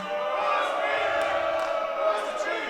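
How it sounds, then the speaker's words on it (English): A crowd at a live wrestling show chants in unison for Busch Beer, a loud, steady, echoing roar of many voices filling the hall. "The crowd chanting for Busch Beer."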